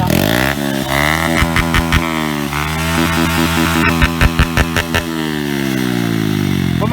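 A Honda Dream 110i motorcycle on a stock camshaft idles loudly and close with a steady thrum, rising in a few quick revs and throttle blips midway before settling back to idle.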